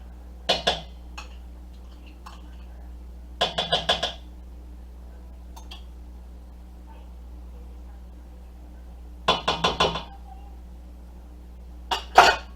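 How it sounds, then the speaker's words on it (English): A hand whisk stirs sour cream into coffee cake batter in a bowl, making short bursts of rapid clinking taps separated by quiet pauses, over a faint steady hum. "I'm going to mix it with my whisk until it combines"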